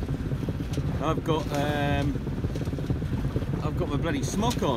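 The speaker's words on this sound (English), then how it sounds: "It's pretty blowy." Gusty headwind buffets a sailing boat at sea off Dodman Point, a steady broadband rush and flutter running the whole time beneath a man's close-up talking.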